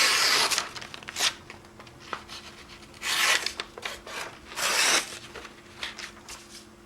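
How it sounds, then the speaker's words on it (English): A knife sharpened with several long rasping strokes, each a distinct scraping burst, close and moderately loud with brief pauses between passes. "So there's the last requirement, knife sharpening."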